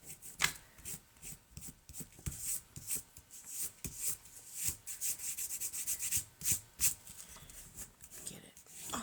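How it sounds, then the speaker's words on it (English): Paper being rubbed by hand to roll off excess glue while making junk journal embellishments, a soft dry scuffing in quick repeated strokes close up, with brief pauses between bursts. "if I catch it in time, I can just rub it until it rolls off"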